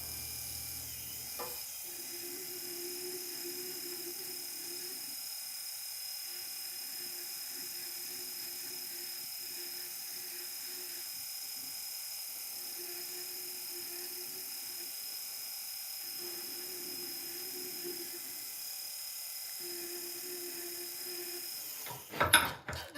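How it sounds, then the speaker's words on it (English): A small straight-line drill bit cuts a stone seat into a wax jade ring model, a thin high-pitched whine in repeated bursts of two to three seconds separated by brief pauses, close and steady over quiet background hiss. "it's a straight line drill bit that is going to cut a straight line into it"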